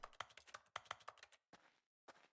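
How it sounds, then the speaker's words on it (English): Quick bursts of keyboard-like typing clicks serve as the interact sound in The Stanley Parable, close and crisp, several fast clusters of taps separated by short silences. "I love that the interact sound is like a keyboard sound."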